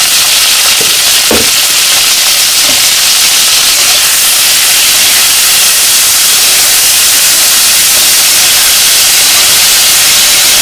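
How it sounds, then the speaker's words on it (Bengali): Chilies and garlic fry with salt in a little oil in a pan, giving a loud, continuous steamy hiss and sizzle throughout, with a couple of brief knocks near the start. "তো আমার মরিচ আর রসুনগুলা ভাজা হয়ে গেছে, এখন নামিয়ে নেই"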